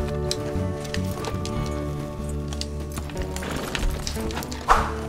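Horse hooves clip-clop in Red Dead Redemption 2, a steady run of hoof beats under a bed of game music, with one louder knock near the end.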